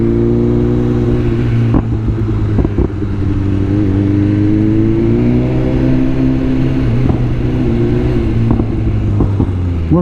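A 2023 BMW M1000R motorcycle accelerates hard along a highway in Mexico, its engine note climbing in pitch through the gears under a steady roar of wind, loud and close throughout.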